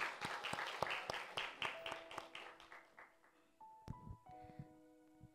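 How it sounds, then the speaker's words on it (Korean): A church congregation bursts into applause at a Sunday service in Gimpo, with dense clapping that thins and fades over several seconds, leaving a few scattered claps and faint room tones at the end. "이선미 성도님 박수로 초청해 드리도록 하겠습니다"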